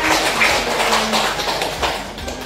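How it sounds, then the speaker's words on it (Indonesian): Classroom applause from a group of students, a dense, steady patter of many hands clapping together for a couple of seconds at moderate loudness with no talking over it. "Tepuk tangan semuanya."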